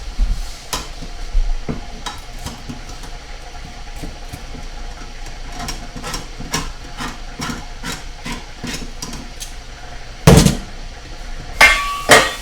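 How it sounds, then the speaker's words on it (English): Rapid metallic clicking and ratcheting, like a manual can opener cranking around a tin, with a few louder clanks near the end. "I'm going to pop the can on that."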